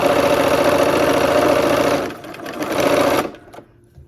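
A sewing machine stitching a quarter-inch seam on a quilt block, running in a loud, steady mechanical whir for about two seconds, easing briefly, then sewing again before stopping.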